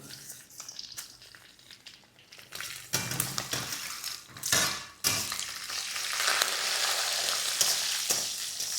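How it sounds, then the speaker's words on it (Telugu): Mustard seeds, cumin and chana dal tempering in hot oil in a pan for street-style tomato chutney, a crackling sizzle that swells and fades with stirring, moderately close, with light spoon and pan knocks. "గ్యాస్ కాస్త స్లోగా పెట్టి చేయాలండి తాలింపు"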